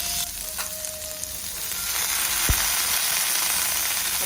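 Food frying in a pan for a Mahashivratri fasting meal, a steady close sizzle of hot oil with occasional faint stirring clicks, continuous throughout and alone, with no voices.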